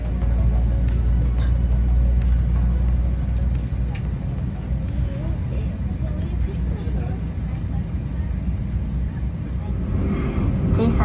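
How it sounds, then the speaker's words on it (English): The cabin of an Embraer regional jet before takeoff on a flight from Sapporo to Tokyo, filled with a loud, steady engine and air roar. Voices murmur underneath. "let's enjoy the takeoff as we head south to the capital of Japan."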